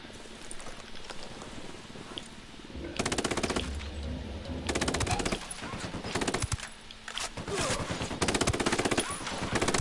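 Rapid machine-gun fire in the video game Ghost Recon Wildlands, loud repeated bursts of automatic shots with brief pauses between them, close and dominant in the mix.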